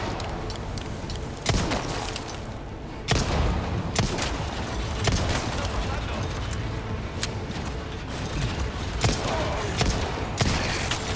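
Repeated sharp gunshots from Resident Evil 4 Remake, single cracks and short bursts spaced irregularly over a continuous background rumble.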